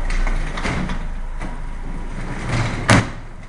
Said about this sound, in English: by using the release mechanism, which still works. And anybody can do this make it a manual door.